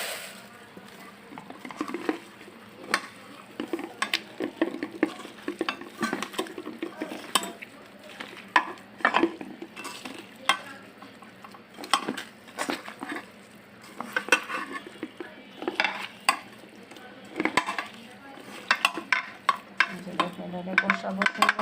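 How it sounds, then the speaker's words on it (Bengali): Spiced liver being mixed by hand in a pot, giving soft squelching, stirring and intermittent clinks of the pot with a gentle sizzle, close and fairly quiet throughout, with no talking. "এখন এটাকে সুন্দরভাবে মাখাবো।"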